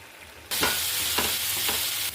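Spice masala with garlic in the pan bursts into a loud, steady sizzle partway through, broken by several scraping stirs of a spoon, with no talk.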